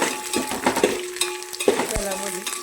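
Spoon stirring green chili and leaves in hot oil in a pan for mutton biryani, with quiet scraping clinks against the metal over a soft sizzle, close and without talk.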